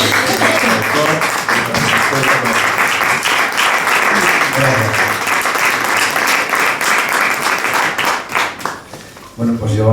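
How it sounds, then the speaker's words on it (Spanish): A room full of people claps loudly and steadily to welcome an author to a poetry book presentation, the applause thinning out near the end as a voice takes over. "os pido un fuerte aplauso para recibir"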